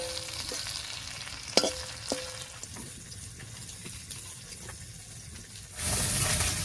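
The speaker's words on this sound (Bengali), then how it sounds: "মাছগুলো হালকা করে ভেজে নিয়েছি" Small tangra fish fry in hot oil in a wok with a steady sizzle, broken by a few sharp clinks of a spatula against the pan; the frying swells louder near the end.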